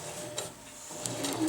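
A sewing machine locks a stitch on tarp fabric with a short burst of mechanical whirring and needle clicks, close and brief, with no talk.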